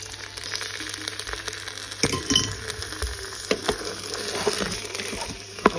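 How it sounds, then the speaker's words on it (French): Drained rice tipped into hot oil in a pan, a soft steady sizzle with a few clinks and scrapes of utensils, no talk. "L'huile est chauffée. Le riz est bien essoré. Je le mets dans l'huile."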